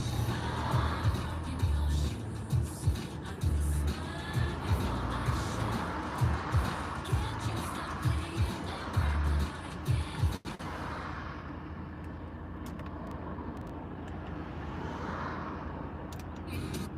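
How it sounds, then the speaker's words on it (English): Road traffic heard from inside a moving car, a steady low rumble of engine and road noise with passing vehicles, broken by a sharp knock midway before a quieter, smoother stretch. "This fucking traffic's a nightmare,"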